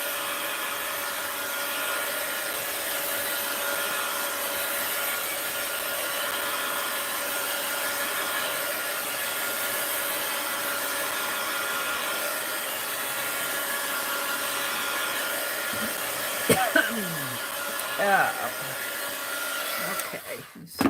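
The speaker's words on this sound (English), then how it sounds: "quick heat gun alert, just to give it a quick dry" Heat gun blowing a steady, loud roaring hiss to dry paint on a mixed-media art journal page, holding constant before a few brief clatters near the end.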